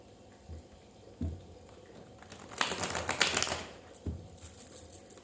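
Tarot cards being drawn from a deck make soft taps, then a brief papery rustle and shuffle in the middle, close and quiet, with no one talking.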